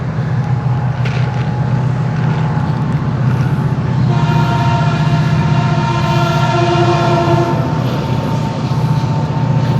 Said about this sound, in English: Beautiful train, dude.